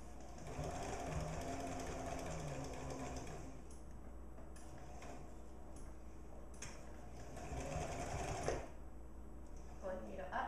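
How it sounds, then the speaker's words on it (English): A sewing machine stitches steadily to the end of a seam and then reverse stitches, a continuous close mechanical whir with brief rhythmic pauses and changes, with no talk over it. "we're going to sew all the way to the end and reverse stitch."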